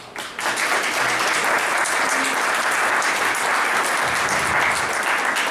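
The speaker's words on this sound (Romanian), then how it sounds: "aș vrea să-i aplaudați" A Romanian audience bursts into dense, sustained applause at a film screening event, a loud continuous wash of many hands clapping that holds steady throughout.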